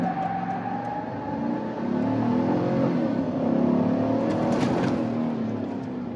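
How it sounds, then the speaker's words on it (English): A GMC Sierra AT4 pickup with the 6.2L V8 and factory intake and throttle body revs and accelerates, a loud, steady engine roar that rises and swells over several seconds, with no talking. "We just want to hear the noise of the throttle body and the intake."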